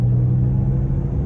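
A car accelerating hard in sport mode from inside the cabin, a loud continuous low engine rumble with a steady droning hum, no voices.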